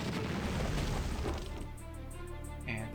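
Shooting and a blast in the Battle Nations game: a dense, loud boom-like burst fading into a rumbling tail, ending with a brief higher chime.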